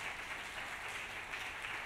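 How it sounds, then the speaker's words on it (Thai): A church congregation applauds during a sermon, soft, distant and even clapping that holds steady for a couple of seconds. "เราปรบมือให้ท่านดีไหมคะ"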